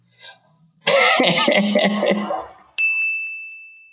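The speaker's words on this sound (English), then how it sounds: "Outside of that one cough I just had." A single harsh, close cough lasts about two seconds, followed by a sharp, bright ding that rings out and fades.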